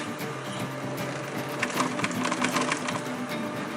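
A sewing machine stitches webbing on a roll-up backpack, its fast needle rhythm steady and close, swelling slightly louder midway through the short run.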